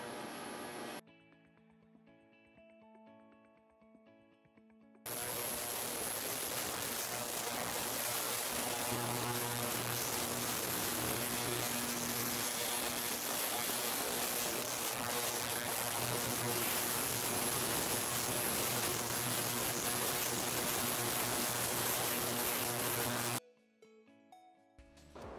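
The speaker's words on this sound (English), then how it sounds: "So we're actually currently degassing the solution for our degreaser" An ultrasonic cleaning bath degassing a mineral spirits degreaser solution for bicycle chain cleaning gives off a loud, steady buzzing hum for most of the stretch, with quieter tonal sound before it starts and after it stops.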